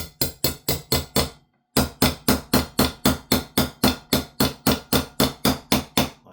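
Sharp metallic taps ring out in a fast, even series as a pin is hammered back into an airsoft MP9 lower, about twenty close, loud strikes with one short pause early on.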